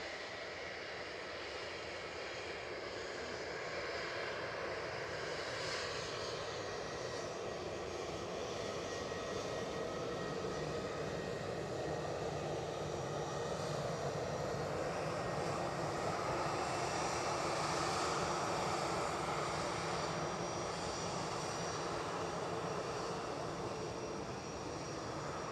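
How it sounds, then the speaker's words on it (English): An EasyJet Airbus A320-200 airliner at Edinburgh airport in the evening gives a steady, distant engine drone that swells gently in the middle and holds for about twenty-five seconds, alone and fairly faint. "So EasyJet on screen, off to Lyon. An A320 200."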